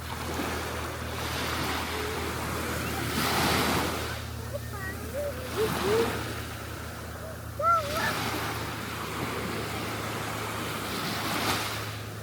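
Gulf of Mexico surf on a Florida beach rolling in and washing up in steady surges, with wind noise and a few faint voices in the background.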